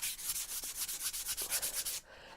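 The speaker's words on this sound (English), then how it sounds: "So I'm giving this a good sanding because I want to distress these checks a little bit" Hand sanding painted wood to distress the checks, a rapid rhythmic back-and-forth scratch of about a dozen strokes, close and clear, stopping abruptly near the end.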